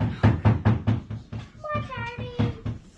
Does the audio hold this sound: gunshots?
no